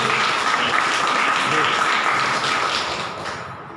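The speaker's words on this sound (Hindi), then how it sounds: "जोर से ताली बजाएं और जोर से।" A congregation at Badussa Zion Church applauds loudly, a dense, sustained burst of clapping that dominates throughout and fades slightly toward the end. A voice can be heard faintly beneath it.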